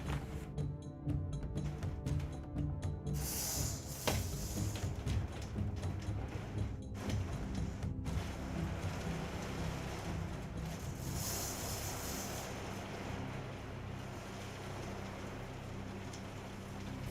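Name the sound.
heavy rain and windstorm outside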